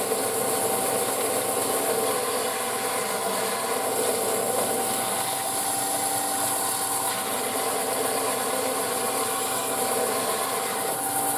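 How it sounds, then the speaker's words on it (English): A hand file scrapes burrs off the drilled edges of a metal luggage rack suspension bracket, making a steady, continuous rasping and rubbing with no pauses, close up and with nobody speaking. "It's going to give him a bit of a file up and a clean up, just to get the burrs off."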